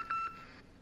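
A phone in a video game bunker gives a single steady electronic beep of about two tenths of a second, followed by a fainter tail, with no talking.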